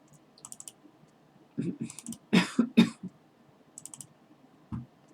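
A few quick, harsh coughs burst out close by in a cluster, with soft clicking and tapping scattered before and after.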